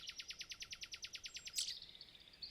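A faint robin sings a fast, evenly spaced series of bright repeated notes, ending in a brief buzzy flourish, heard alone at a distance.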